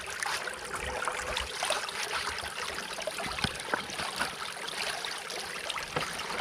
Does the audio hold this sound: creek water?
yes